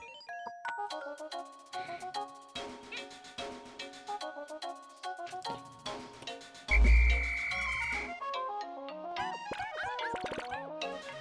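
Musical croaking calls from frogs in the Pikmin 2 video game sound over a plucky, chiming game soundtrack, with one louder, fuller burst partway through.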